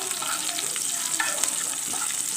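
Eight to ten green chilies frying in hot oil alongside lightly browned ingredients, a close, hissing sizzle with soft stirring, steady throughout and without talk.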